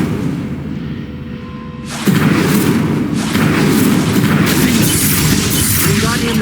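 A fire spell is cast in the Hogwarts Legacy video game: a sudden loud burst erupts into a sustained roaring, crackling rush of flame over a low ambient bed.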